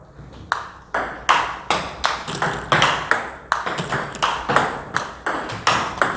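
Table tennis ball struck repeatedly in topspin drive practice during a lesson, a steady run of sharp, bright pings roughly twice a second, close and clear with no talk.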